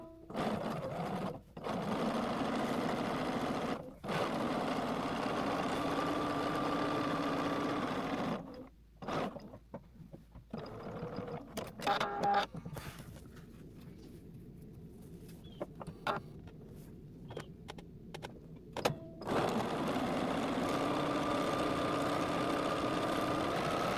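Sewing machine stitching garment linings to the front facings, a steady close whirring run broken by short pauses and stops, then resuming.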